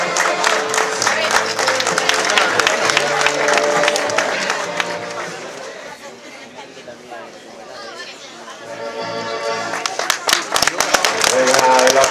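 A crowd at an outdoor cyclocross awards ceremony in Burgos claps steadily for junior riders, with some cheering and crowd chatter mixed in. Announcer speech runs over the clapping, which fades midway and then swells again near the end.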